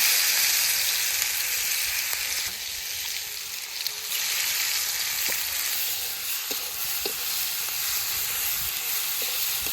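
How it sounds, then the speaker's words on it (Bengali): Egg fries in hot oil with garam masala and onion paste, giving a loud, continuous hissing sizzle with small pops and crackles scattered throughout. "ডিম ভাজি তেলের উপরে দিয়ে দিলাম গরম মশলা পেঁয়াজ বাটা"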